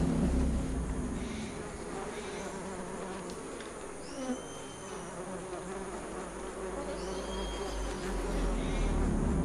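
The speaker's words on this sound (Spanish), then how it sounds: "en sus cercanías, como buenos vecinos, se instalan unas pequeñas abejas tropicales." Small tropical bees buzzing near an ant nest in the Amazon rainforest, a steady close insect drone with individual passes swelling and fading over a constant background hum, no talking.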